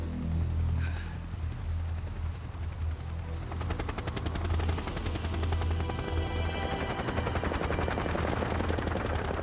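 Heavy rotor thump of helicopters drones under rapid bursts of machine-gun fire in the Metal Gear Solid 3 video game, the gunfire growing into a dense, continuous rattle in the second half.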